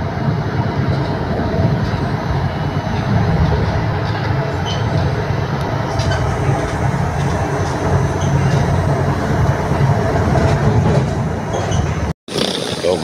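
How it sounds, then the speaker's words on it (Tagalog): A fast train running through a pine forest on the way to Kaunas, Lithuania, heard from inside as a steady loud rumble and rushing roar, with a brief dropout near the end. "Pero gubat ang bilis ng takbo ng train."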